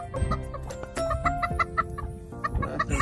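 Hens cluck and chatter close by as chicks hatch, with repeated short calls overlapping in an irregular rhythm.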